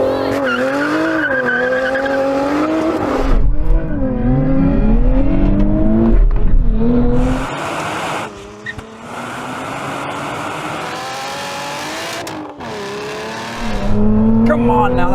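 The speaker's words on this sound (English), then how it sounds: "I am going to launch it with the launch control." Sports car drag race launch using launch control, with a Nissan Z, Porsche GT4 RS, Toyota Supra and Lotus Emira lined up: loud high engine revving and rising gear pitches, tyre squeal and wind roar, with someone talking over it throughout.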